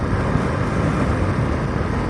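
A motorcycle accelerating on a road gives a loud, steady roar of engine and wind noise that stays close and unbroken throughout, with no talking.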